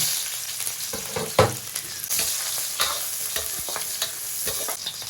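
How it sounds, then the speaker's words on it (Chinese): Scallion, ginger and garlic crackle and sizzle in hot oil in a wok, a dense, bright frying hiss with a few scraping stirs and sharper pops, heard up close. "锅中加油，葱姜蒜爆香"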